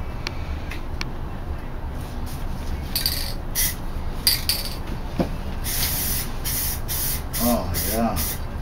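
Repeated hissing bursts of an aerosol spray paint can applying red paint to a Corvette, short and long sprays over a constant background rumble, with speech mixed in.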